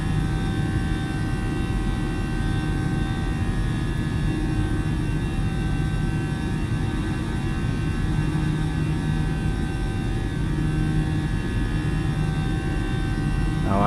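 Airbus A318 airliner engines in Microsoft Flight Simulator 2020, a steady, loud jet roar with a constant hum and whine held evenly throughout, no talk over it.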